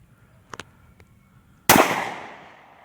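A single loud, sharp gunshot cracks outdoors in Georgia, its echo trailing off over about a second; a few faint clicks and taps come just before it.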